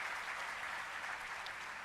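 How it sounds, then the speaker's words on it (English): An audience applauds for Ira Singhal, a UPSC topper, at a student session at MIT: steady, dense clapping from a crowd, continuous and fairly uniform throughout without pause. "Please give a big round of applause for Ms. Ira Singhal"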